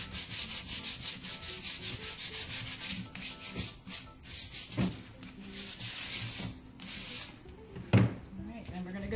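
Steady rubbing and sanding strokes along the edges of a furniture door, rhythmic and close, with a sharper knock near the end.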